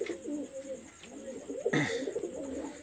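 Lal Pari and Teddy pigeons coo softly in a close, steady murmuring rhythm, with a brief louder flutter or rustle partway through and no speech.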